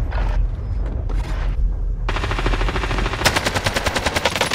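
Rapid automatic fire from the Milano gun in Call of Duty Warzone, loud and close, with short bursts giving way to a sustained rattling stream of shots.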